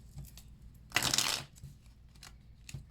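A deck of tarot cards gets one brief shuffle, a quick papery riffle lasting about half a second. Quiet soft handling sounds come before and after it.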